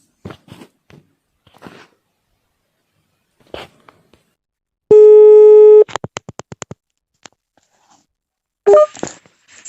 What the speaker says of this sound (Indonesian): Coba kita telepon langsung ya teman-teman ya.